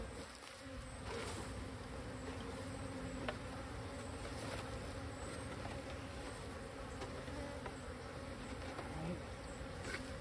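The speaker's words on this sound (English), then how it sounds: "Got a bunch of bees on the bottom of the box." Dense, steady buzzing of many honeybees shaken into a hive box close by, a continuous droning hum that holds at an even loudness throughout with faint knocks underneath.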